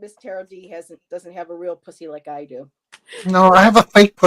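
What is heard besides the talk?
No distinct noise like a dog, phone or traffic.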